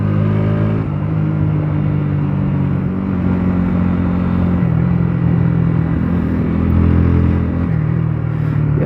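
Several motorcycles on a group ride roar steadily close by, engines droning and shifting pitch as the bikes lean through a bend, with no voices over the continuous rumble.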